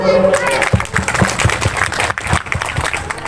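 An audience at a Quran memorization graduation ceremony breaks into applause, a dense patter of clapping with a voice and other voices mixed in, loud and close, running throughout.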